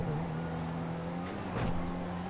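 A car driven in GTA V Online, its engine holding a steady mid-pitched drone with a brief rise in revs near the end, alone and fairly quiet.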